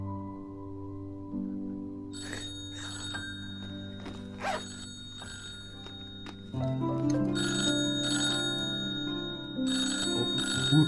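A telephone rings with a repeating electronic ringtone, its bright tones coming in rising bursts over a low, steady tonal background.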